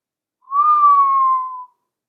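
A single low, clear whistle, pure and steady, holds for just over a second and falls slightly in pitch before stopping in silence.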